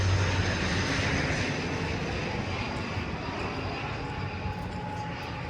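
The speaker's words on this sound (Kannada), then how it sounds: "ಇಲ್ಲಿಂದ ಪ್ಲೇನ್ ಕೂಡ ಹೋಗ್ತಾ ಇದೆ ನೋಡಿ." A steady, loud roar of an airplane engine passing overhead, continuous and unbroken throughout, with no talking.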